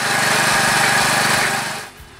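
An old concrete mixer powered by a salvaged lawnmower motor runs with a loud, steady buzzing engine drone that carries on evenly, then drops away near the end.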